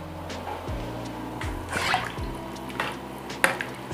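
About a liter of water poured into a cooking pot for chicken sotanghon with ampalaya, heard as close splashing and dripping bursts with clanks of pot and utensils, irregular and fairly loud, with no talk.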